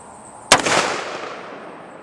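A single sharp, loud shot from a .44 Magnum revolver with 240 grain soft-nose ammunition strikes a truck hood, followed by a decaying metallic rattle and ringing tail outdoors.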